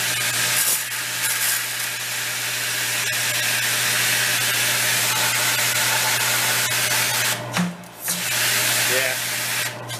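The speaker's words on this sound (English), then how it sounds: "I can hear the pump turning on and off." A commercial hot-water pressure washer, worn and battered, runs with a steady hiss and a low constant hum. A brief dip and a couple of thumps near the end match its pump cycling off and back on.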